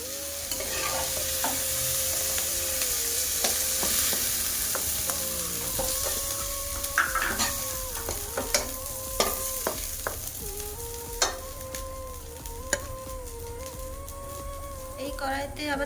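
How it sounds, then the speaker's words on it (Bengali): Prawns fry in a pan with a steady sizzle while a spatula clinks and scrapes against the pan in frequent sharp taps, and a tonal hum runs along underneath. "এভাবেই চিংড়ি মাছটাকে লাল লাল করে ভেজে নিয়েছি"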